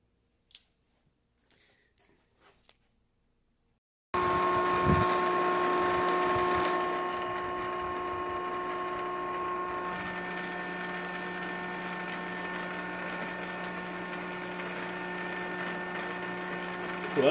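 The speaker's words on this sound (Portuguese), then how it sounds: "Vou fazer com uma broca mais fina um pouco." Electric drill running with a thinner bit while working on a Chevrolet C10/C20 starter motor, a steady loud whirring hum starting after a quiet opening and holding evenly to the end.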